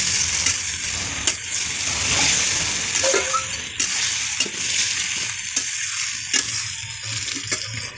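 Meat sizzles steadily in a pan with spices for a homemade biryani, with repeated scraping and clinking as a spoon stirs it, loud and close, and no voices.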